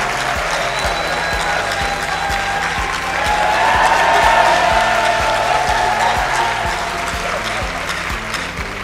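A crowd at the closing ceremony of a trade fair applauds and cheers for a young man, steady applause swelling midway over a pulsing music beat.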